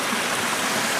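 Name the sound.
brook flowing in a gorge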